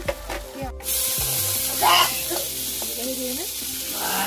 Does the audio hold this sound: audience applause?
no